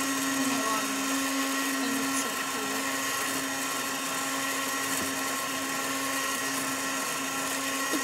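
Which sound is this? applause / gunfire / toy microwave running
toy microwave running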